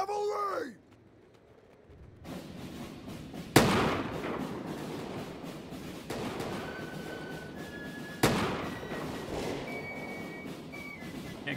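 Volleys of musket fire ring out on a Mount & Blade II: Bannerlord battlefield set in 1700s Europe: two sharp, loud cracks with rumbling echoes over steady battle ambience, plus a brief voice at the start.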